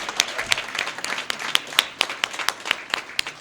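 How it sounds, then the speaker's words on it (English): A luncheon audience applauds the newly presented chamber board of directors in a banquet hall: a moderate, steady patter of many hands clapping, with individual claps popping out clearly. "Let's give them one more round of applause"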